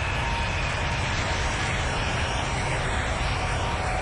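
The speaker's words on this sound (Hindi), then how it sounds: "सऊदी एयरलाइंस का विमान SV 763 हवाई अड्डे के रनवे पर दौड़ पड़ता है" Loud, continuous roar of a Saudi Airlines airliner, flight SV 763, accelerating down the runway on takeoff, a dense steady engine rush that fills the whole clip with no voices.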